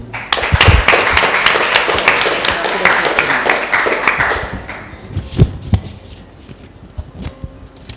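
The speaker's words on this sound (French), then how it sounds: "Sous vos applaudissements, s'il vous plaît" An audience at a school debate contest claps in a loud burst that thins out over about five seconds, leaving scattered single claps, light taps and room noise.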